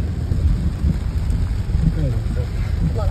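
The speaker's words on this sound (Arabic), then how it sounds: "يعني الشتا بغزارة" Heavy rain pours down in Morocco, a dense, loud, continuous hiss and patter with low rumbling underneath and faint voices mixed in.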